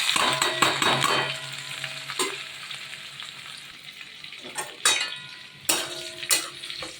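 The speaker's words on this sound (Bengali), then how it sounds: "এবার আমি এই তেলে এই ফোড়নটা দিয়ে দিলাম" Whole spices for a tempering hit hot fish-frying oil, crackling and sizzling close up, with several clattering stirs and pan knocks.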